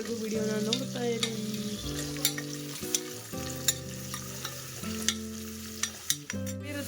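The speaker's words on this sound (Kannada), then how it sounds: "ಸೊ ಎಲ್ಲ ಸ್ಪೈಸಸ್ ಹಾಕ್ಕೊಂಡು ಇವಾಗ ಫ್ರೈ ಮಾಡ್ಕೋಬೇಕು" Onions and spices frying in oil in a pan: a continuous sizzle broken by repeated sharp clacks of a spoon stirring against the pan, close and clear over a steady tonal background.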